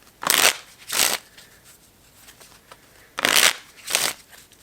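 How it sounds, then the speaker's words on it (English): A deck of playing cards being shuffled in two pairs of quick riffling bursts, each a crisp rustling flutter close by, with brief quiet gaps between. "Let's put that jack back in and shuffle."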